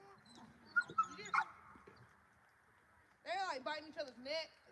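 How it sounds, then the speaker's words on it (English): Dogs playing rough and biting at each other, with a few sharp yips and growly bursts early on, then a stretch of louder whining, yelping vocalizations near the end, over a low background rumble. "They're dogs. That's the way they play."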